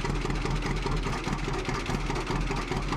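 A John Deere 620 tractor engine in Farming Simulator 17 runs with a steady, throbbing low rumble that stays even throughout, with no talk over it.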